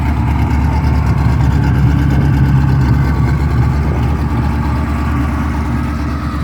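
A 1975 Maserati Khamsin's engine idles with a steady, loud low rumble close by, with slight revving swells, continuous throughout and without speech.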